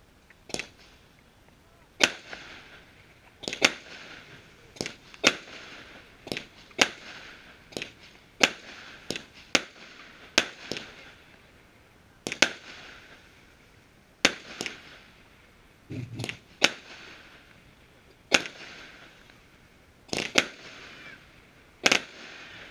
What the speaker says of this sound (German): silberner Schweifaufstieg zu großen roten Blinkpuppets, roter Schweifaufstieg zu großen weißen Blinkpuppets, immer im Wechsel geschossen.